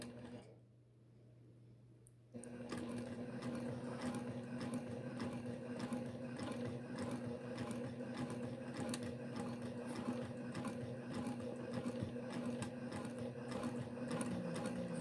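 A sewing machine stitching a curved seam at a slow, even pace, its steady mechanical ticking and whir running alone after a brief quiet start.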